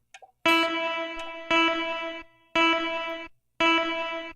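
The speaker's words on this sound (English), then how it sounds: "You can hear how the reverb is getting cut off from the second press of record" A loud, reverberant synth-like chord repeats four times in even loops on an Echoplex Digital Pro looper, each ringing reverb tail chopped off abruptly before the next begins.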